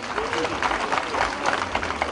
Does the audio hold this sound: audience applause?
yes